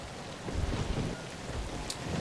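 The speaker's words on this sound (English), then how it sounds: "Bloody hell, this storm is, is loud." A storm in the video game ZombiU, with steady heavy rain pattering on surfaces and low rolling thunder rumbling underneath, fairly quiet overall and uninterrupted by speech.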